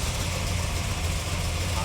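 A Ford Granada sleeper's engine runs at a steady idle on a chassis dyno, a low continuous rumble with closed exhaust, close and even throughout.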